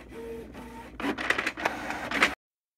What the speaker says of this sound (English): A lot more pages printed.